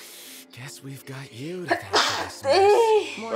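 A single sharp sneeze comes from a character in a Final Fantasy XV cutscene, with character dialogue before and after it.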